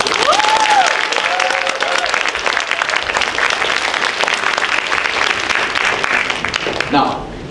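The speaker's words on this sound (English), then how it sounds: "Please give one more round of applause to all our lovely contestants." A large audience at a university student association pageant gives the contestants loud, sustained applause, with a voice cutting through near the start. The applause rolls on steadily before dropping off sharply near the end.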